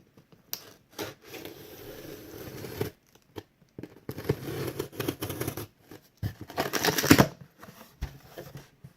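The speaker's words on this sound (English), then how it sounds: "let's start the unboxing for the HP Pavilion Gaming Keyboard 500" Packaging of an HP Pavilion Gaming Keyboard 500 being handled during unboxing: close rustling, rubbing and tearing of cardboard and plastic in irregular bursts separated by short pauses.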